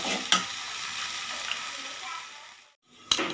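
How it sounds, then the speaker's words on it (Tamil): Tomatoes sauté with a little salt in a pan, a steady soft sizzle with a couple of sharp spoon clinks, fading briefly to silence before another clink, close and fairly quiet. "இப்போ தக்காளி கொஞ்சம் சீக்கிரமாக வதங்கிக்கும்."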